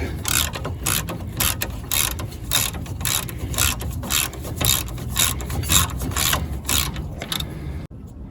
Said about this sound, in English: So I'm going to take off these two 18 mil bolts, get this carrier off